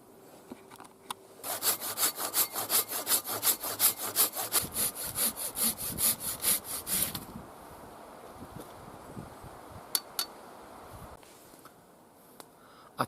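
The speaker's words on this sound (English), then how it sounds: "it's an axe test, why did he use a saw? Basically because I like using saws. Silky saws, in my opinion, are fantastic" A Silky hand saw cuts through wood in a long run of steady, rhythmic strokes, close and fairly loud, then stops, leaving quiet with a few faint knocks.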